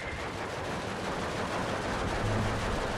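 Dense, continuous gunfire from DP machine guns in the World War II strategy game Steel Division 2, a steady loud rattle of overlapping bursts that runs without a break.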